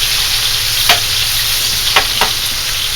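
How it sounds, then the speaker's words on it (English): Onions sautéing loudly in oil left from cooking pork chops, a dense, steady sizzle close up, broken by a few brief scraping stirs. "And now you're using that flavored oil to brown these onions"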